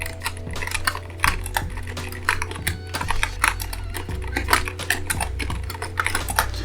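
Rapid, uneven clacking of keys on a custom mechanical keyboard fitted with Royal clear switches, close and crisp, with a continuous run of individual keystrokes and occasional heavier bottom-outs.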